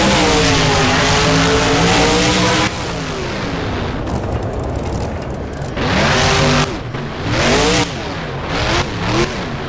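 A Hot Wheels monster truck engine in the BeamNG racing game revs loudly, rising and falling through several throttle bursts with a harsh, roaring tone, close and continuous without speech.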